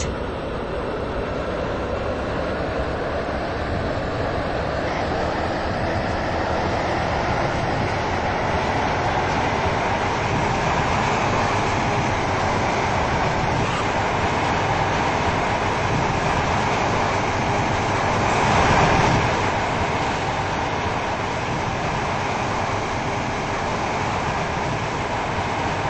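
A 730 train on the line to Greenslade rolls along with a steady, continuous rumble and hiss from inside the carriage, swelling slightly near the end, with no speech.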